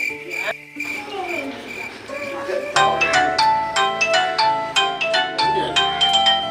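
A phone ringtone plays a repeating melodic tune, fairly close and clear, with a few background voices early on.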